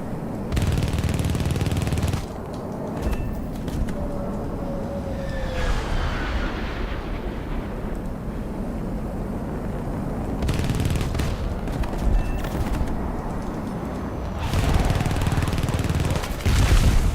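Aircraft machine guns rattle in War Thunder during a dogfight, sustained bursts of rapid gunfire over a steady engine roar, with sharp breaks where the firing stops and resumes.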